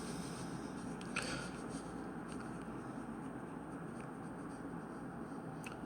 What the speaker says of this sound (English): I'm going to erase this now